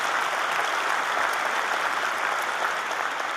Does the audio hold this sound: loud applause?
yes